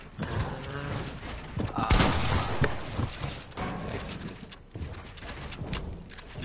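Gunfire in an online shooter game, with sharp bursts and a loud blast amid busy clattering effects and background noise.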